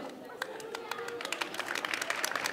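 An audience claps for cosplayers at a cosplay contest prize ceremony at Amiens Japan Manga Wave 2024. Scattered claps grow denser over crowd murmur while a voice speaks.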